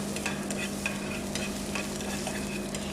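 Ginger and spring onion sauté in a pan, a steady moderate sizzle with light stirring clatter throughout; no voices.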